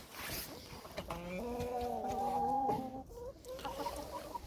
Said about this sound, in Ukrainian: Ось кури зустрічають мене тут